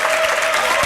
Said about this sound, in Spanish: Un aplauso para la alcaldesa de Providencia.